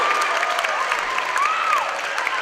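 A basketball crowd applauds and cheers loudly after a late free throw, a dense, sustained roar with a whistle-like tone gliding through it.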